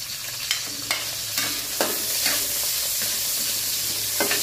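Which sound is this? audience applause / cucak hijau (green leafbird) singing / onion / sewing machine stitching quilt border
onion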